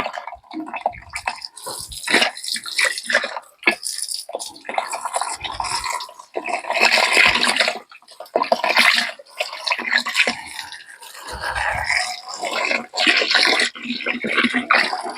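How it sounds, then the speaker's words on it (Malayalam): Water splashing and running as a broom and bucket are scrubbed and rinsed, with irregular bursts of sloshing and dripping, close by. "നല്ലോണം കഴുകട്ടെ ചൂലും പിന്നെ നമ്മളെ ബക്കറ്റും"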